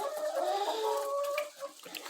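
Several wet chickens cluck and murmur close by in a small barn on a rainy day, a busy overlapping chorus of warbling calls that briefly quiets near the end.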